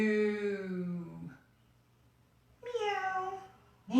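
A person imitates a cat, giving two drawn-out meows separated by a short silence, close and fairly loud, with a third starting at the very end.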